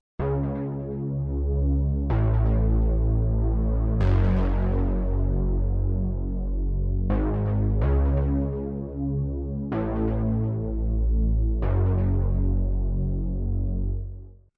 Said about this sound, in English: It's a really wide sounding Reese bass with a lot of punch.